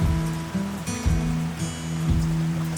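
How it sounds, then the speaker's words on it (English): Rain patters steadily on a surface, a constant hiss of drops, with low droning hum and intermittent rumbling underneath. "Well, it's raining now."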